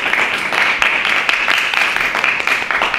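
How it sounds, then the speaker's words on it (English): A meeting audience at a Democratic club candidate forum gives a steady round of applause for candidates in a county supervisors race, sustained clapping from many hands filling the room at close range. "Round of applause for both of them coming up."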